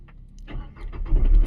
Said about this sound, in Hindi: जैसा कि आप लोगों ने सुना गाड़ी स्टार्ट हो चुकी है